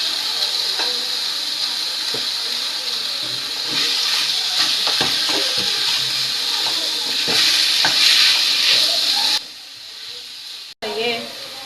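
Chicken mince hits a pan of lightly fried garlic and ginger, giving a steady close sizzle and hiss with occasional stirring scrapes, ending in a short pause and clatter.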